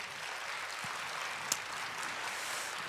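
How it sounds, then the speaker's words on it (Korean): Faint, distant applause from an audience at a launch ceremony for a citizens' council in Chuncheon, a soft continuous patter of clapping with one brief sharper clap standing out. "여러분의 큰 박수 한번 들어보겠습니다."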